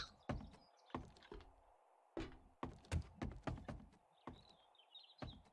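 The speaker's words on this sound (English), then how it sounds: "Knock knock." Knocking on a door in the game 7 Days to Die, heard as a series of sharp wooden thunks in uneven clusters, loud and close, with faint high chirps between the knocks.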